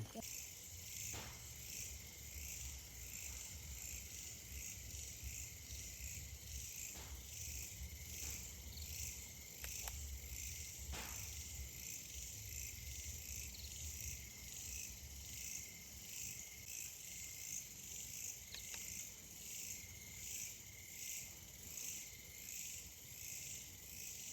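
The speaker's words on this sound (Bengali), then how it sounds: "সব বিভিন্ন ধরনের পোকা" Various insects chirp in a forest along a hill road toward Netarhat, forming a dense, unbroken high chorus that holds steady throughout, with faint low background rumble.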